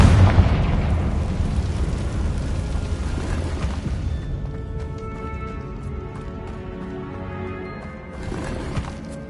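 A heavy fiery blast from the Confringo explosive spell in Hogwarts Legacy opens loud with a low roaring burst, then rumbles and fades over several seconds into quieter game ambience and tonal effects.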